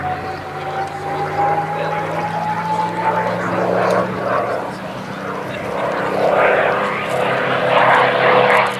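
A P-51D Mustang propeller fighter drones steadily overhead during a flying display at Sywell, its engine pitch sliding and swelling as it passes fairly close, loud and continuous throughout.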